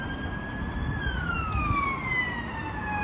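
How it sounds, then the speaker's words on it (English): An emergency vehicle siren passes by outdoors over steady traffic rumble, its wailing tone sliding steadily lower in pitch as it goes. "Siren going by."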